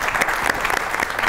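Studio audience on a Pakistani comedy talk show bursting into applause, steady dense clapping throughout with no voices standing out.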